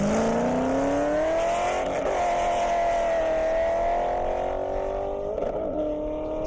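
A 2023 Corvette and a 2007 Corvette drag race down a half-mile airport airstrip, their engines roaring loudly and climbing in pitch through hard gear-by-gear acceleration, with no talk.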